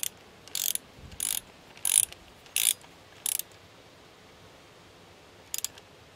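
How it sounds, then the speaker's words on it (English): A torque wrench clicks and ratchets in five quick bursts while tightening rocker cover bolts on a 2003 Skoda Fabia 1.9 TDI PD diesel engine, then falls quiet before one last short burst, close and crisp. "Now I'll use the torque wrench to torque them up to the correct torque"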